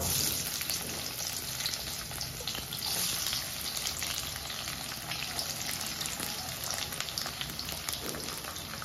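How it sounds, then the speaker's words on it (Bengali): Chopped onion fries in hot oil with caramelising sugar in a pan for a mutton curry, giving a steady, close crackling sizzle with dense popping spatters throughout. "পেঁয়াজটা ভাজা হচ্ছে"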